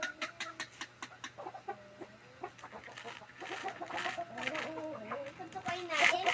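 Backyard hens cluck in quick repeated bursts, close and fairly loud, overlapping with murmured human voices that build toward the end.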